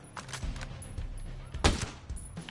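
Rapid gunfire crackles in the tactical shooter Ghost Recon Breakpoint, quick bursts of shots at moderate distance with a sharper, louder crack near the end of the brief stretch.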